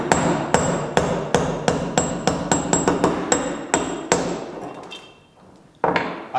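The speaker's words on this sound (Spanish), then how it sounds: "cogemos un botador del tamaño más o menos de los pasadores y un martillo." Metal hammer striking a steel punch to drive a pin out of an HK USP Compact pistol: about a dozen sharp, evenly spaced taps up close, slowing and quieting after a brief pause before one last blow.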